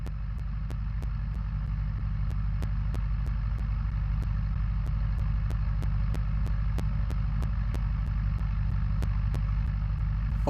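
Piston engine of a Robinson R22 helicopter warming up at about 55% RPM in the Aerofly flight simulator, a steady low droning hum with regular faint ticks, constant and close throughout with no talking.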